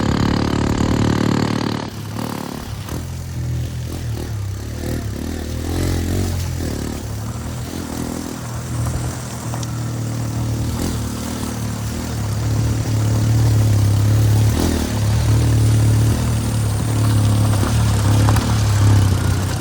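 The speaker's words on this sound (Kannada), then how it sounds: "ಬನ್ನಿ ಈಗ ಇನ್ನೊಂದ್ ಸ್ವಲ್ಪ ಒಳ್ಳೊಳ್ಳೆ ಕ್ಲಿಪ್ಸ್ ಕಾಂಬ ಬೈಕಿಂದ ಸೌಂಡ್ ಒಟ್ಟಿಗೆ" A motorbike rides off-road up Kabbinale hill, its engine droning loudly and steadily throughout with surges of revving and no talk.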